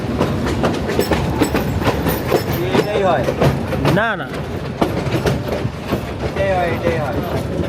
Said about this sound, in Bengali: ওই ট্রেন তো বড় না, ছোট লাইনে দেখা যাচ্ছে ট্রেন